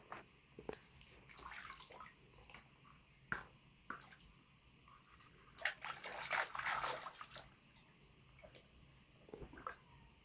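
Water is bailed out of an old wooden country boat in faint, irregular splashes and sloshes, with scattered small knocks and drips between bursts, fairly quiet and without talk.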